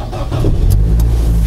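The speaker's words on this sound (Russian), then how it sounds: "Все, автомобиль завелся" A car engine catches and settles into a steady, loud idle with a low hum, heard close up from the cabin during a winter check at a used car market.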